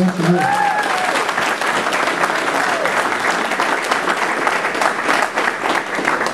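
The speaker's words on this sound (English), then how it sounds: "Yeah, round of applause." A crowd gives a round of applause for an Eagle Scout honored as Medina County Student of the Year, loud, dense and sustained throughout, with a voice briefly heard at the start.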